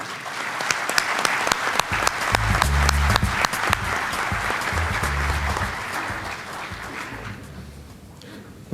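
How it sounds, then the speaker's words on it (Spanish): A conference audience in Chile applauds a panelist with sustained, lively clapping that gradually fades, with faint low thumps underneath. "Quiero recibir entonces a nuestro primer panelista con un gran aplauso de todos ustedes, David Gallagher."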